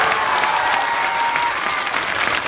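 A large crowd at a political rally in a village gathering claps in sustained, dense applause, loud and continuous throughout with no break.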